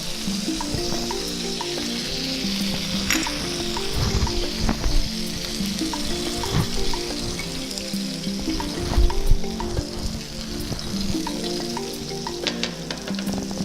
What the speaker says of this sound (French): Et je vérifie encore notre steak. Ça cuit tout doucement.